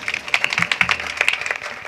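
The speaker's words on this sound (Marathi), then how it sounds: "गुरुजीसाठी टाळ्या वाजवा" Audience applause for a guruji musician: a steady patter of many hands clapping in quick, uneven bursts at moderate volume, with no voices over it.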